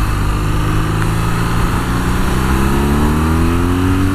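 BMW R nineT motorcycle engine accelerating, a loud continuous drone with rising harmonics as revs climb, heard close and steady with no talk.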